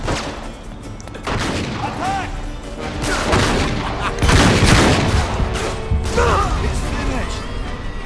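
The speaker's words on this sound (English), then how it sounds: "What is shooting at me? I really want to know what's shooting at me." Gunfire in the Uncharted 3 action game, bursts of shots and impacts crackling in rapid volleys that swell and fade over several seconds, loud and close with game noise mixed in.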